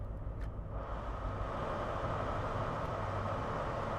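Train engine heard from outside the locomotive in the Great Western Express game, a loud, steady, low rumbling roar with constant broadband noise and no voices.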